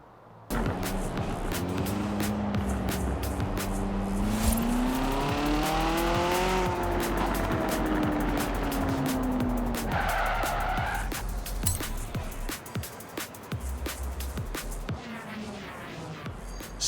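Engine note of a car in the racing game Forza Horizon 4, revving in rising and falling sweeps with long tire skids and squeals, loud and steady throughout with no talk.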